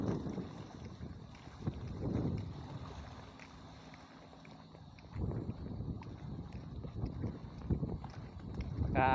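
Wind gusts at a seaside pier, rising and falling in soft rumbling waves across the clip, close to the microphone, with faint voices briefly in the background.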